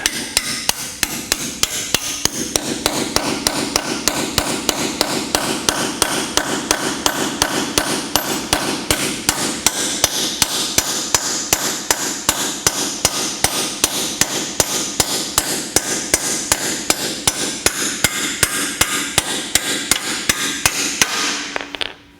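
Anchors are hammered into a concrete garage floor to secure a Twin Busch car lift, giving a long, steady series of sharp, evenly spaced metallic blows. The strikes are close and loud, with no talking.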